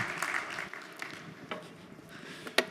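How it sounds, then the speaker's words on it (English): Scattered audience applause welcoming a keynote speaker, fading out to a few sparse claps, with one sharp close bang near the end. "If you could give a warm round of applause to Dr. Michal Kosinski."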